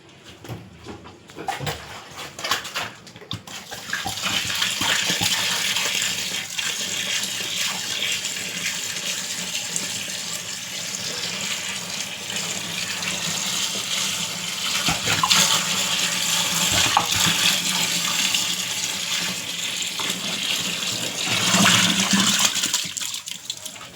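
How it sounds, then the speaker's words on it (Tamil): Water gushes steadily into a container while beetroot bio-enzyme is being prepared, about fifteen litres poured in a continuous rushing stream. "இதில் பதினஞ்சு லிட்டர் மட்டும் தண்ணி ஊற்றிட்டேன்"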